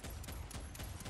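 Rapid pistol fire from a Basilisk in Fortnite Save the World, a quick string of about four evenly spaced sharp shots with no voice over them.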